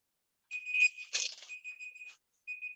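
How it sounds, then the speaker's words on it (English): A kitchen timer timing lobster cooking goes off with high electronic beeping in short repeated bursts, clear and close, pausing briefly before sounding again. "That is my last of my timers for the lobster."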